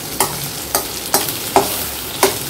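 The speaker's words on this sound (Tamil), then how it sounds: "இப்போ தக்காளியும் போட்டு வதக்கையில் வெங்காயமும் இன்னும் கொஞ்சம் கூட கொஞ்சம் வதங்கிடும்" Onion and tomato sauté for chutney in a pan, a soft sizzle punctuated by five sharp, evenly spaced clacks of a spoon stirring against the vessel.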